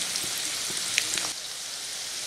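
Chickpea pakoda fries in hot oil with a steady bright sizzle and a few crackling pops, then the frying settles to a quieter hiss partway through.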